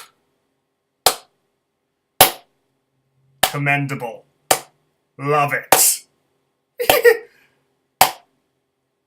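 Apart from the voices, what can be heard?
slow clap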